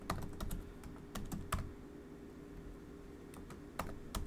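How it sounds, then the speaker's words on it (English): Quiet, steady tapping on a computer keyboard as an email address is typed, with irregular clicks over a faint background hum. "you want to type in here your school email address"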